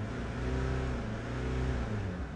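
A Chevrolet Captiva engine, about 81,000 km on it, revs steadily at a held, loud drone near the car, a continuous rumbling tone with a slight dip near the end and no talking.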